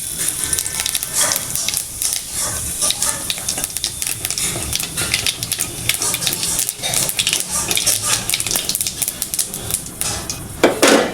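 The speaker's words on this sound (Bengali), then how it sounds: "ওই তেলে আমি একটু জিরে ফোড়ন দিয়ে দেব" Cumin seeds are tempered in hot oil in a pan that has just been used to fry lentil dumplings. Rapid, dense crackles and pops come up close and run on without a break.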